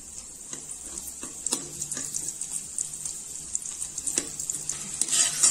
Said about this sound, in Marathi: मिरच्या हे छान तळून घ्यायचे आहे